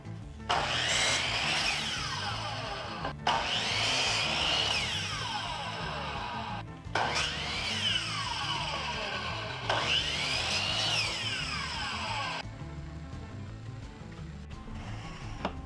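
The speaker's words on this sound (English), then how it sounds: "Next thing we do is cut them to size, drill them, and put the whole thing together." A hand saw cutting wooden chair pieces to size in four long rhythmic bursts of back-and-forth strokes, close by, each followed by a short pause.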